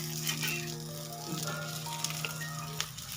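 Colocasia (alu) leaves frying in oil: a steady, soft sizzle with a faint tonal hum and a couple of small pops, close by, with no talking.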